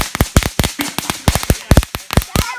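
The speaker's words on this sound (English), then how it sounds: "Fireworks, fam." Repeated sharp firecracker-like bangs from fireworks going off outdoors, a rapid irregular string of about a dozen loud cracks with crackling tails, no talk.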